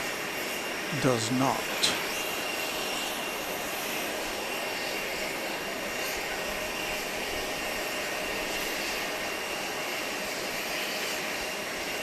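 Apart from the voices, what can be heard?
airplane at Grand Cayman airport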